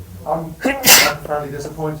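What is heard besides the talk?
sneeze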